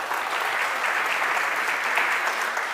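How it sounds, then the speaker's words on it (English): Dense sustained audience applause fills a room at a livestreamed startup pitch event, a steady wash of many hands clapping at even loudness for nearly three seconds without talking. "Big applause."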